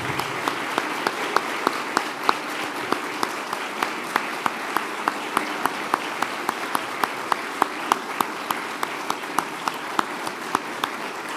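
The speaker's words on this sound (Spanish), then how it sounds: "Creo que el presidente se merece un aplauso mucho más fuerte" Applause rings out for Argentine President Javier Milei at a cabinet event, a sustained wash of clapping from a large audience with sharper individual claps punctuating it, heard at moderate distance without talk over it.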